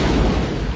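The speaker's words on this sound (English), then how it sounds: "Roll the explosion from Star Trek VI to save money." Stock explosion effect from the film Star Trek VI, a loud, dense rumbling boom that fills the whole brief moment and holds steady throughout, with no voices over it.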